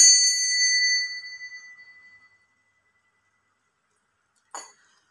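A single bell rings out clearly, its bright tone decaying over about two seconds, followed by silence and then one short, lighter chime.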